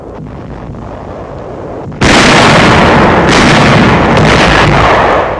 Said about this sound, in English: Firing on enemy barges in the Rhine before Dusseldorf.